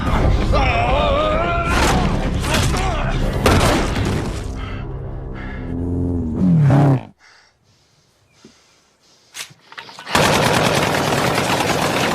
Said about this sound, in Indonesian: suara tembakan itu